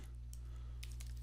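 Keys tapped on a computer keyboard while data series are entered during an economics homework walkthrough, a few quick clicks and short bursts over a steady low hum, with no talk.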